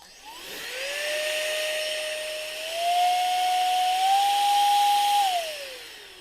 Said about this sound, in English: It's an air blower, so it is loud.